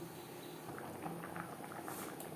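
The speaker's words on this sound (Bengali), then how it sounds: "গ্রেভি ফুটে ওঠা পর্যন্ত অপেক্ষা করব" Bhola bhetki fish curry gravy simmering in a pan, a faint, steady bubbling and soft popping patter close by, with no talking.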